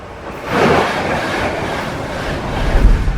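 A train runs along a railway with a steady rolling rumble and faint clatter, swelling slightly near the start and growing heavier toward the end, with no voices.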